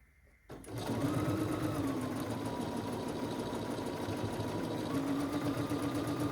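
A sewing machine stitches a quilt block in a continuous, steady whirring hum with a faint mechanical tick, starting abruptly after a brief quiet moment and running close and evenly throughout.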